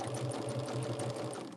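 Steady mechanical whir of a sewing machine stitching quarter-inch seams on a quilt block, a continuous close hum with a fast regular pulse, running alone without talk.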